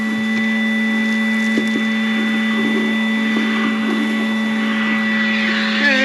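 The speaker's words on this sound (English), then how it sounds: "let's put it on low first and we'll see what happens." Makita 18V XCV117 cordless vacuum running on its low setting, a loud steady motor whine with a constant hum and airflow rush throughout, with a few faint clicks and rattles of debris being picked up.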